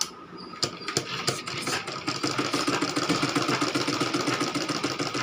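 A sewing machine stitches along handkerchief edges with a fast rhythmic chatter, stopping and starting briefly at first, then running steadily up close.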